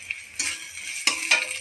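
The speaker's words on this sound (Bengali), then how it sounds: "এই আমার পেঁয়াজ ভাজা হয়ে গেছে" Onions fry in hot oil with dried red chilli in a pan, a faint sizzle broken by a few quick clattering stirs of the spatula against the pan.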